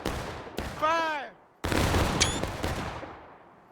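Musket volleys ring out in the video game War of Rights as two loud, rolling bursts of massed gunfire, with a brief voice heard between the volleys.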